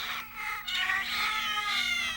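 Stray cats yowling at night on an urban landfill, drawn-out wavering caterwauls rising and falling in pitch, fairly close and alone over a faint steady background hum.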